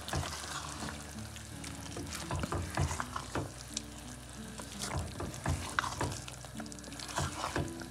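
Fried brinjal is stirred and mixed in a clay pot, a spoon scraping and turning pieces against a steady soft sizzle, the scrapes coming irregularly and close by.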